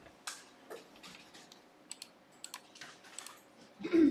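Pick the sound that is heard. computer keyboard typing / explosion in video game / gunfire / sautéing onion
computer keyboard typing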